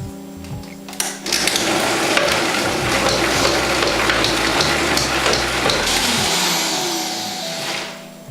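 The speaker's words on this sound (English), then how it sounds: "And we'll start the blending process." A blender whirs loudly through raw vegan pumpkin pie filling with spices, starting abruptly after a brief clunk, running steadily for several seconds, then winding down at the end.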